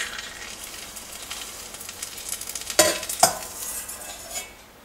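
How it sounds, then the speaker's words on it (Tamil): Hot oil in a pan sizzles and crackles steadily as a small test piece fries before spring rolls go in, with a couple of sharp metallic clinks from a utensil partway through. "ஒரு வாணலியில் எண்ணெயை சூடாக்கிக்கோங்க. சூடாயிடுச்சான்னு சின்னதாக போட்டு பார்த்துடலாம்."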